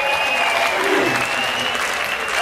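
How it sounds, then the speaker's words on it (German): A large crowd at the Berlin World Cup fan zone applauds the German national football team, dense sustained clapping and cheering spread evenly throughout with no break. "würde ich gerne mal einen Applaus für unsere jungen Helden, für unsere deutsche Nationalelf hören"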